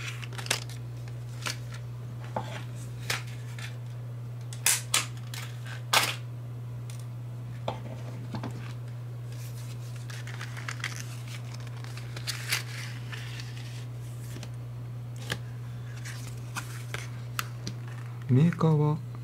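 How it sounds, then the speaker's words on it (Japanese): A Best Tool CKS-90R mini combination wrench set package being opened, with scattered sharp crinkles, taps and plastic rustles at close range against a steady background hum. "早速開封していきます。"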